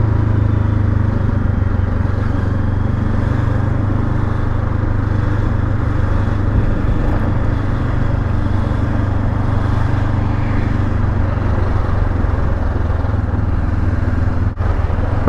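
A Honda CL500 Scrambler motorcycle hums steadily at low speed while filtering through traffic, its engine drone loud and continuous with wind noise throughout.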